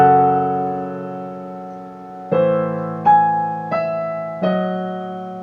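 A piano plays a slow passage from Rachmaninov's Piano Concerto No. 2, Adagio Sostenuto: a sustained chord decays, then four more chords are struck at a measured pace, each ringing out clearly and alone.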